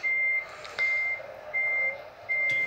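A truck backing up in a driving video game, its reversing alarm sounding four evenly spaced steady beeps over a low engine hum.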